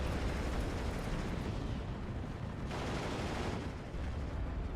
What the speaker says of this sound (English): I think that's the artillery.